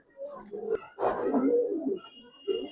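Giribaz pigeons, a silver Pangkhi old-generation pair, coo close by in several throaty, rolling phrases separated by short gaps.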